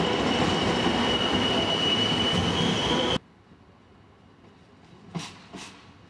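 A class 628 diesel train arriving at Rosenheim from Mühldorf via Wasserburg am Inn: a loud, close, steady rumble for about three seconds, then a sudden drop to a quiet hush with two brief, faint squeals.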